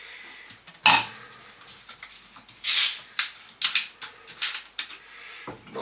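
Cups, spoons and kitchen items clink and knock in sharp, irregular bursts while coffee is being made, close by with quiet pauses between the clatters.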